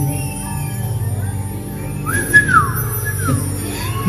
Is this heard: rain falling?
no